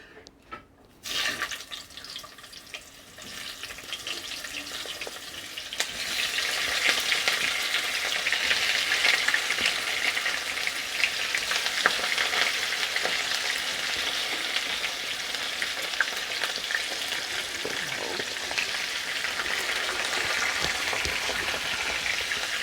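Thickly cut onions for chilli chicken fry in a hot wok, a continuous loud sizzle that swells after a few seconds and holds steady, with faint stirring scrapes and no voices.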